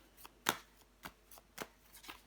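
Playing cards laid down and covered on a table during a tarot-style card reading, heard as several sharp, light card slaps and slides spaced irregularly, close and fairly quiet with no talking.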